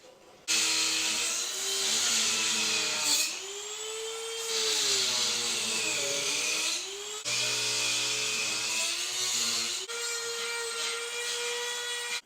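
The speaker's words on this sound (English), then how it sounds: "So did have to do a bit of cutting with the Dremel tool." Dremel rotary tool cutting a headlight housing for a Ford Super Duty projector headlight build, a continuous high whine whose pitch dips and rises as the bit bites into the plastic, close and steady without speech.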